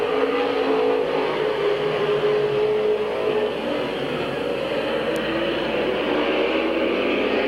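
Race cars circling Midvale Speedway during a 1999 race, a steady blended roar of several engines heard from the stands at a moderate distance, continuous with no break.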